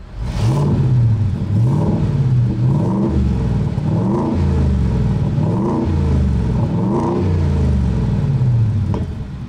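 A 2023 Ford F-150 Raptor R pickup truck engine in quiet mode revs repeatedly in steady rising-and-falling surges, a deep, close rumble that swells about six times in a row with no talk over it.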